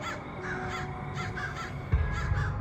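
Several crows caw repeatedly in a rhythmic series of harsh calls at moderate distance, with a thump and low rumble near the end.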